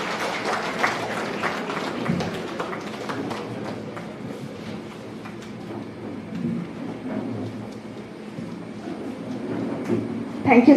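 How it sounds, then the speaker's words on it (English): An audience at an annual law lecture applauds during a shawl-honouring ceremony, giving a long, steady rumble of clapping with a roomy, slightly muffled tone that swells again near the end. "Everybody, please give a round loud applause."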